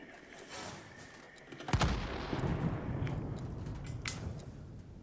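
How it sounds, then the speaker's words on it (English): Anti-aircraft gun fire in a flight combat game over a captured airfield, a sudden loud burst of shots followed by sustained rumbling fire and a second sharp report, with no talk. "Love AA guns."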